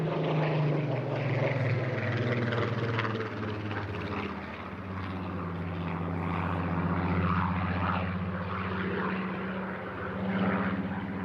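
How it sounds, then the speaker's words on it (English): A P-51 fighter aircraft flies at the Eastbourne International Airshow, its piston engine drone steady and loud throughout, rising and falling slightly as it passes, with no talk over it. "Clearing off to the left now to make way for Steg, bringing in the P-51"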